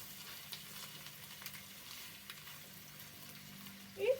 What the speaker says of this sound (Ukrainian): будемо жарити до готовності